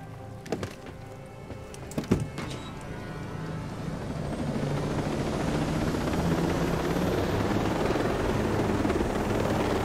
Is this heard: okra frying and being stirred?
no